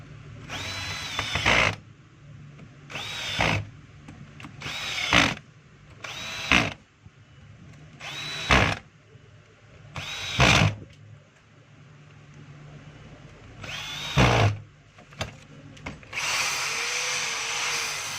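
Stanley SDH600 half-inch hammer drill with a newly replaced chuck, run in a series of short bursts of a second or so each, with pauses between, close and loud, ending in a longer sustained run.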